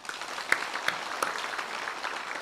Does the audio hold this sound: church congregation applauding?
yes